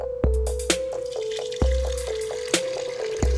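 Water poured into an enema bag, giving a sequence of sharp plopping drips over a steady tonal trickle, close and fairly loud with no talking.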